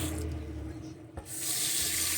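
Hot water gushes steadily from a faucet into the sink of a 1993 Fleetwood Terry travel trailer, a bright hissing rush that briefly dips before flowing on strongly.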